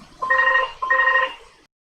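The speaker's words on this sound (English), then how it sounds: "then I get things like phone calls" A telephone rings twice in quick electronic bursts during a live stream, close and clear, then stops.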